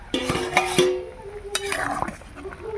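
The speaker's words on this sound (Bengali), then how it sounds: "ঢাকাটা খুলে দিলাম" A metal lid comes off a cooking pot of simmering vegetables, with a few sharp, ringing metallic clinks and scrapes close by. A lighter clink follows after a short pause.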